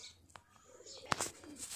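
A king-size Bajre pigeon coos softly in a quiet setting, low murmuring calls broken by a couple of brief, sharp chirps or clicks near the middle.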